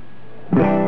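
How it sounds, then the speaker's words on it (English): An electric guitar runs through a Rocketride First Echo on the Moon tape-style echo delay pedal with no chorus engaged, a loud chord striking after a quiet hum and sustaining with a smeared, repeating tail. "This is just the echo by itself with no chorus engaged."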